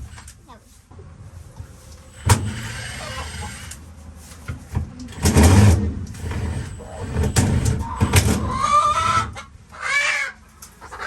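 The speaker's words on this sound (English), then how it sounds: "There's a chicken down there." A chicken clucks on a farm near an outside nesting box, with irregular close clucks and squawks mixed with people talking and doing chores.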